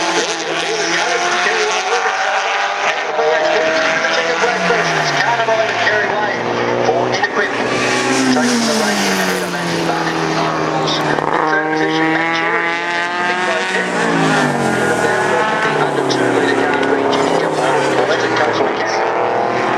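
Improved production race cars, among them Mazda RX-3s, Mitsubishis and Toyota Corollas, roar past on a circuit, several engines overlapping with rising and falling pitch as they pass, loud and continuous.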